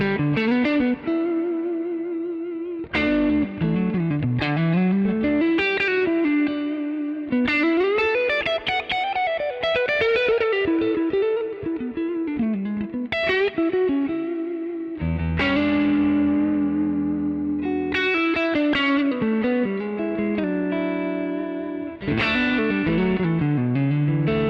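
Electric guitar with a single-coil neck pickup played continuously through an ambient effects preset on a Neural DSP Quad Cortex, chords and melodic lines smeared with chorus, echo and distortion, loud and sustained with no talking.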